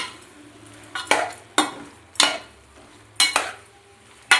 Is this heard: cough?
no